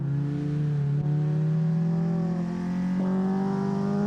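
Race car engine in the Assetto Corsa sim on a touge mountain course, droning steadily near and loud with a slowly climbing pitch, gear-shift blips at about one and three seconds, no voices.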